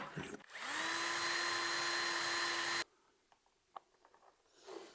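A handheld power tool spins up and runs steadily for about two seconds as it regrinds a tight hole while building a turntable, then cuts off, leaving faint workshop clicks and a brief rustle.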